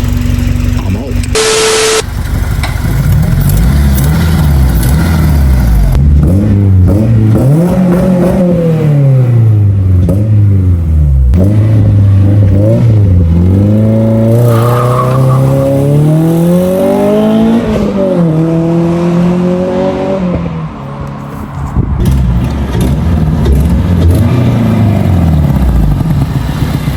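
A car accelerates hard down a street, its engine revving loud and close through several rising gear pulls, with a brief horn-like tone near the start and a short lift off the throttle before it picks up again.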